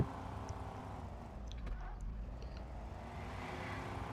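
A car in the video game Car Simulator 2 drives away, a low steady engine rumble with a faint tonal whine and brief clicks, fairly quiet, with no talk.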